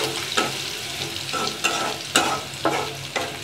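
Whole cumin seeds and garlic browning in hot oil: a steady sizzle interrupted by about six rhythmic scraping stirs of a spatula in the pan, close and clear, with no voices.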